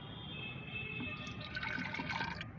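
Boiled clove water is strained to make a plant spray, producing a faint, steady trickling pour that runs for a couple of seconds without talk.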